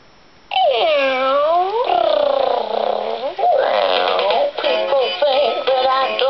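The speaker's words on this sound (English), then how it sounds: "introducing Gracie, Julie's singing Christmas cat" A cat meows along to a Christmas song, with long, loud, drawn-out wails that swoop up and down in pitch, several in succession with brief breaks, close and dominant.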